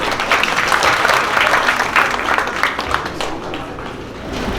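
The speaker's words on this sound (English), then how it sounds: "Please give her a huge round of applause." Audience applause after an introduction at a reunion event for books and authors, a dense, steady wash of many hands clapping that fills the room and tapers slightly toward the end.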